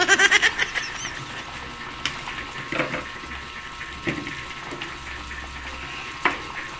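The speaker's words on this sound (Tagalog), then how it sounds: "kumukulo na siya" Adobo-style chicken feet boil in a pot with a low, steady bubbling hiss, punctuated by a few sharp pops and clicks, moderately close.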